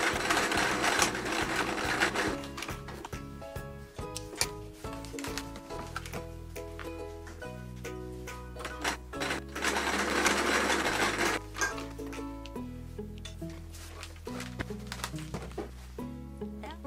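A sewing machine stitches the bands of a patchwork quilt together in rapid, rhythmic bursts. The mechanical ticking runs under a bright, busy music track that sits prominently in front of it.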